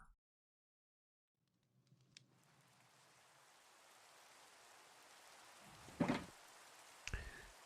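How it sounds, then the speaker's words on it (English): Steady rain falls in a video game server world, a soft hiss that swells gradually and holds as a continuous wash, with a couple of brief louder thuds near the end. "It's unreal how much it rains on this server."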